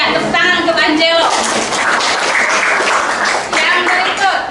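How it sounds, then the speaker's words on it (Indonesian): Classroom applause for a student bursts out after a voice speaks, a loud scatter of clapping hands with voices mixed in throughout. "tepuk tangan untuk Angelo."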